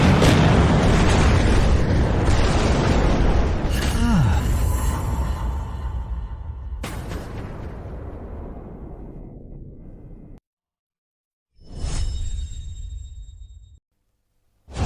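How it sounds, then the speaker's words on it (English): Cannons firing in a medieval battle, a heavy booming blast rolling into a long rumbling decay, followed by a pause and a shorter second burst, loud and close with no speech. "Fire the cannons!"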